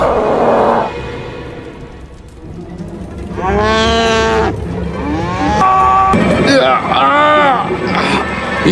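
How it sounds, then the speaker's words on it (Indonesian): Cattle low in several long, loud moos, one after another with overlapping calls near the end, while people talk and other noise runs underneath. "Itu suara sapinya Tantripala."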